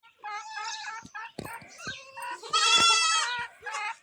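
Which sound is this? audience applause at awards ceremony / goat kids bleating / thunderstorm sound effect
goat kids bleating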